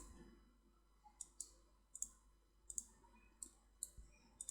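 Virtual dice rolling in the TaleSpire tabletop game: a series of light, sharp clicks in small clusters, several pairs spread unevenly across a quiet background, fairly faint.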